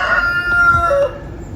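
A cockerel crows loudly and close by in an off-grid chicken run, one full cock-a-doodle-doo rising then falling away, with no talk over it.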